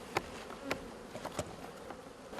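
Honeybees at the entrance of a hive, working the acacia honey harvest: soft, faint buzzing with several brief wingbeat bursts and little ticks as bees land and take off close by.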